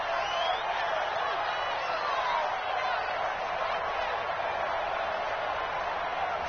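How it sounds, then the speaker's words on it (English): Football stadium crowd at a 2020 NFL game, Rams against Packers, building to a steady, dense roar ahead of a third down, with the noise holding at an even level throughout. "the crowd getting into it as we come up on a big 3rd down"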